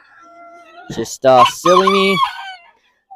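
Chickens being fed on a cold winter day, with clucks and a crow-like call rising in a loud burst over a quiet, voiced background; a person briefly speaks as well.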